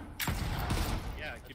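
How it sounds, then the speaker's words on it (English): Gunfire in the survival video game Volcanoids, a burst of several sharp, booming shots with a rumbling low end, loud and close, no talk over it. "All I can hear is gunfire."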